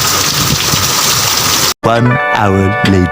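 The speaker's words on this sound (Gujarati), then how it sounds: "ચોમાસા જેવો વરસાદ આવે છે અત્યારે" Dense, loud rain pouring steadily, then a brief cut before a person talks over the continuing downpour.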